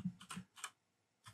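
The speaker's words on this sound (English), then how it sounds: "go into iNav CLI and type version" A computer keyboard is typed on in a quiet room, giving a few close, crisp keystroke clicks in quick bursts with short pauses between them.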